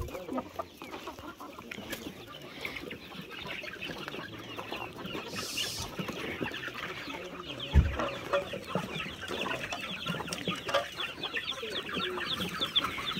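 Chickens cluck in a backyard coop at feeding time, a steady run of clucks and soft calls close by, with occasional louder squawks and a distant rooster-like call, no talking.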